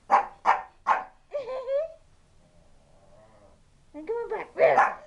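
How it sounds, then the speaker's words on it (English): A pet dog at bath time gives three quick, loud barks in a row. A person's voice follows, and more barking comes near the end. "Wuffles, you know, bark, bark."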